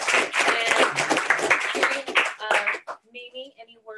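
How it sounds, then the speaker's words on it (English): Audience applause for a panel at a Martin Luther King event, a loud burst of clapping for about three seconds that quickly thins to a few scattered claps as a voice begins speaking. "If we could have a round of applause for the panel."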